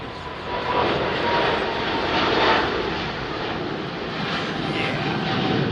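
A DHL Boeing 777 cargo jet at London Heathrow gives off a loud, steady roar of jet engines that swells slightly midway and holds for several seconds, with no voices.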